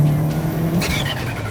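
A Subaru Impreza WRX engine hums and pulls as the car drives, a low steady drone that shifts pitch midway with a brief tire and road rush, fairly close.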